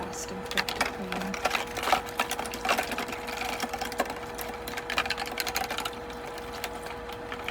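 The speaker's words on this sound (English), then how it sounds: "So I'm going back and scrubbing them again before I put them back in the dishwasher." Dishes being scrubbed by hand in a cleaning session with tiny gloves, giving busy, irregular scraping and rubbing strokes close up, with a steady hum running underneath throughout.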